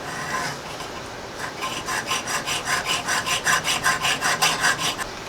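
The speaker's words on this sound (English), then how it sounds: "I'm going to try cutting it just a little bit longer than the other one" Rhythmic back-and-forth rasping of a saw or file cutting through a metal contact from a 1983 Toyota pickup's Denso starter solenoid, steady strokes speeding into a regular pulse, close and fairly loud with no talk.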